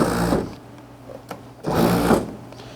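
A food processor purees pork in loud whirring bursts, two roughly one-second pulses separated by a quieter pause with a faint click.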